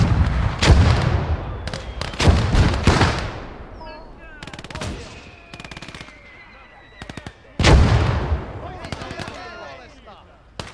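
Mortar fire in a war video game, heard as heavy booming blasts and rattling bursts of gunfire that come in clusters, with quieter stretches between them and a voice talking over the battle.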